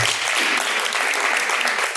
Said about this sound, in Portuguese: palmas que louvam e agradecem a Deus